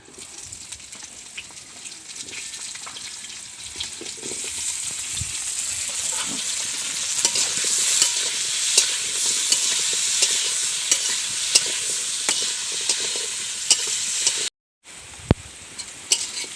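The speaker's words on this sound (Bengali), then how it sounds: "প্রথমে আলুগুলো ভেজে নেব।" Potatoes fry in a pan of hot oil with a loud, continuous sizzle that builds steadily. Scattered sharp ticks and spatters sound over it, and the sizzle cuts out briefly near the end.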